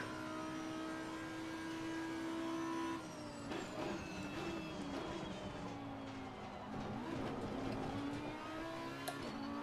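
An Audi R8 GT3 EVO race car in the Assetto Corsa Competizione video game, its engine droning steadily, then dropping and rising in pitch through gear changes and revving while cornering on track, with no talking.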